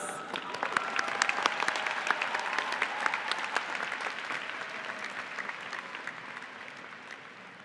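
A graduation audience at the Heinz College CMU diploma ceremony breaks into sustained applause, a dense crowd of hands clapping that holds steady and slowly fades, with a few scattered voices.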